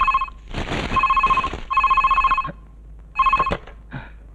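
An old-style telephone bell rings in bursts during a Telugu movie comedy scene, loud and close, with four rings separated by short pauses and some faint background noise between them.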